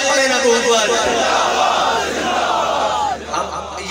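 Large rally crowd chanting a religious slogan in unison, a loud continuous roar of many voices filling the space at an open-air political meeting in Haripur, sustained throughout.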